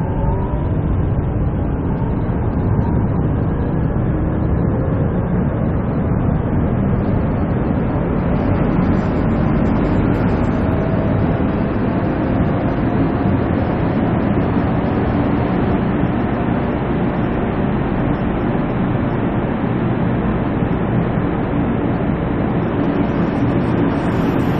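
A Korail Line 1 subway train runs toward Seoul Station. The steady, loud rumble and rolling roar from inside the car continue without a break the whole time, with no voices.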